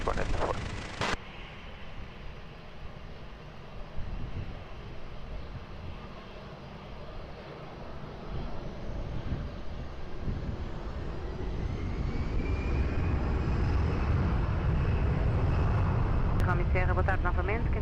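An airliner taking off from runway 20 at Lisbon Airport gives a broad, rumbling engine roar that slowly swells louder over many seconds, with radio talk at the start and a brief whine near the end.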